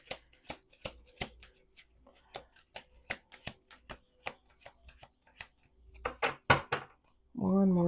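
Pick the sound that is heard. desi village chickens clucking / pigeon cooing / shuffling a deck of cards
shuffling a deck of cards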